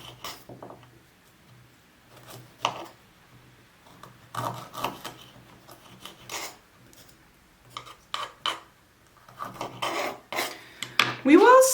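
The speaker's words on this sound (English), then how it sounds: "we will start rasping it into the mixture" Peeled ginger is grated on a rasp into a sugar body-scrub mixture, giving quiet, close scraping strokes in irregular bursts with pauses between, growing busier and louder toward the end.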